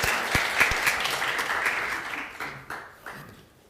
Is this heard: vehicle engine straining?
no